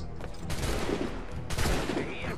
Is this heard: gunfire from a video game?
yes